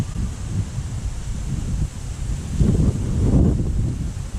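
Gusty wind blowing at a local pond, a steady rough rumble of buffeting against the microphone that swells louder in the second half, with no talking.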